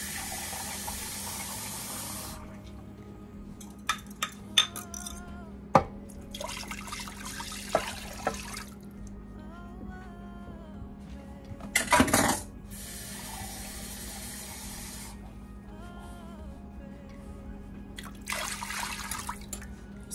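Water poured into a Ninja Foodi pot holding meat coated in mushroom soup, with intermittent splashing pours and drips separated by quieter gaps and small clinks of the pot, heard close and without talk.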